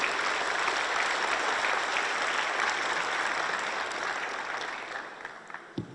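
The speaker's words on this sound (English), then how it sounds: "Let's give them a quick round of applause for getting up here and doing this with you." An audience at an Uzbek economic forum applauds in a dense, sustained clatter of many hands that slowly thins and tapers off near the end.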